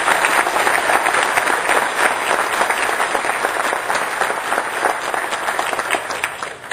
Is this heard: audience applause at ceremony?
yes